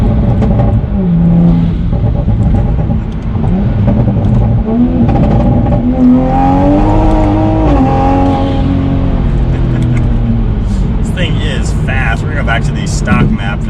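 A Toyota Supra fitted with a turbo inlet pipe accelerates hard with its wheels spinning, a loud, close engine rising steadily in pitch throughout, with a brief higher whine near the end.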